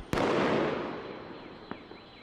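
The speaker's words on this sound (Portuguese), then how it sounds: "como se não tivesse fogos explodindo" Fireworks bursting at the China–North Korea border: one sharp loud bang followed by a long crackling tail, then a second fainter pop about a second and a half later, with no talk.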